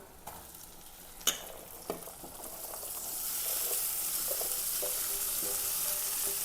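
Ivy gourd (kovakka) with turmeric powder frying in a pan: a few sharp stirring clanks early on, then a steady sizzle that swells and holds, close and moderately loud, with no talk.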